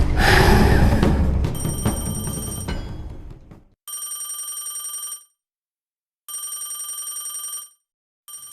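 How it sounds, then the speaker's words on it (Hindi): A telephone bell rings in repeated bursts with silent gaps between them, loud and close, following a stretch of rustling noise at the start. "मुन्नू भाई का फोन आ गया।"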